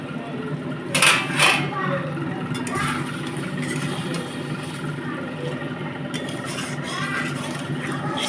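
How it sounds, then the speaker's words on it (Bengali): A metal lid comes off a cooking pot of mutton with a bright clatter near the start, followed by steady cooking noise and soft background sounds. "ঢাকাটা খুলে দেখি।"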